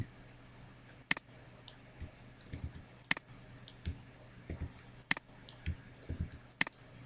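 A computer mouse clicks close by in sharp, isolated taps with a few softer clicks between them, spaced irregularly over several seconds in a quiet room.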